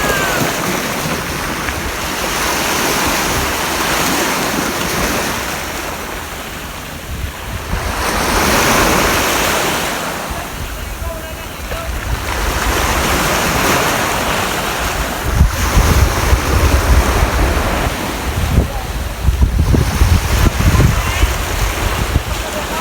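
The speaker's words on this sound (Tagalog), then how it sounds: "Ang maririnig mo lang ay salpok ng alon sa bato." Ocean waves crashing against rocks at a rocky shore during high tide, surging in slow rolling swells with heavy wind buffeting the microphone, loud and close, growing rougher toward the end.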